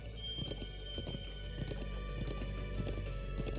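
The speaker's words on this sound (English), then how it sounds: "I'm glad I still remember how to ride a horse." A horse being ridden in Trails of Cold Steel 2 clip-clops in a quick, steady gallop over a constant low hum and background music, with no voices.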